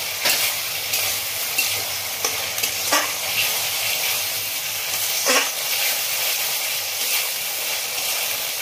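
Ginger-garlic paste and whole chillies frying in a pan for a Bengali prawn and jackfruit curry, a steady close hiss of sizzling oil with occasional stirring scrapes and brief sharper spits, no voices.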